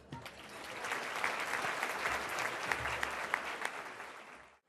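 Audience applause fills a hall at a Quebec businesswomen's awards ceremony, a dense, steady clapping that swells, holds for several seconds and fades, with no talk over it.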